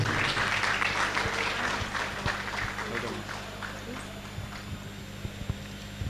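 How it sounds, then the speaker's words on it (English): An audience at a heritage event claps in a dense, moderate patter that slowly fades, with a few louder isolated claps standing out and a low steady hum underneath. "Please can we clap properly?"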